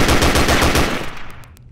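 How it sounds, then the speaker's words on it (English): An STG-44 rifle in the Gun Club VR game fires a loud, fast burst of rapid shots that ends abruptly, leaving a short decaying echo. "Is that an STG-44?"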